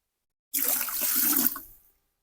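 Diluted acid for setting rubber sheets is poured from a container into a bucket, a steady splashing liquid stream lasting about a second and a half before trailing off, close and fairly loud with no talking.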